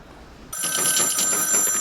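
A telephone rings steadily through a call, a bright electronic trill that starts abruptly after a short quiet moment and keeps sounding close and loud with no talk over it.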